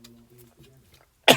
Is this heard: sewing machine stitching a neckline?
no